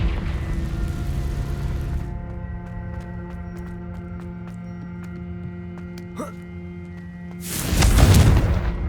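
A fire spell blast in the Hogwarts Legacy video game, a loud, broad roaring burst near the end following a steady humming stretch with faint clicks.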